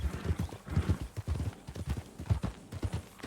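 Horse hooves clip-clopping in the video game RedM, a brisk steady rhythm of close, loud hoofbeats with no talking.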